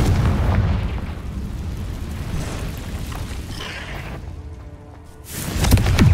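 Confringo fire spell blasts in Hogwarts Legacy gameplay inside a cave: a loud, sustained booming explosion rumbles and fades, followed by a sharp fresh burst at the end.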